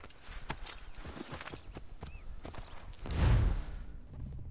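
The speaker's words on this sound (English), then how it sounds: "Horsey, where'd you come from?" Horse hooves clip-clop at a walking pace in the Assassin's Creed 3 video game, a run of soft rhythmic hoofbeats with a louder whooshing swell near the end, moderately close amid game ambience.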